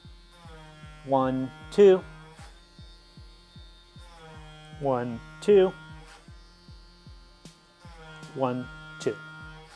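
The ABS brake fluid pump on a BMW F750GS motorcycle runs during a brake fluid flush, giving a steady low buzzing hum with regular quick pulses, while a voice counts aloud over it.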